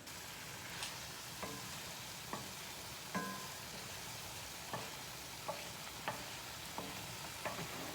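Beef pushed aside in a pan as onions and mushrooms go in to fry for beef stroganoff, a quiet steady sizzle broken by regular light utensil clicks and scrapes, no voices.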